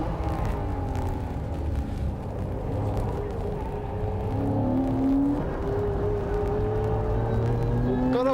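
A supercharged race car engine drones and whines continuously at Tsukuba circuit, its pitch rising and shifting as it accelerates, loud and steady throughout.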